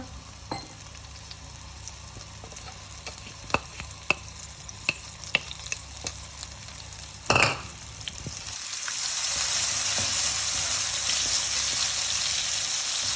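Ground garlic-ginger paste sizzles and fries in a hot pan for butter chicken, with scattered clicks and a stirring clatter, then the sizzle swells louder and steadier.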